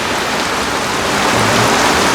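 Heavy rain pours down loud and close, a dense, unbroken hiss of drops striking surfaces, steady throughout with no voices.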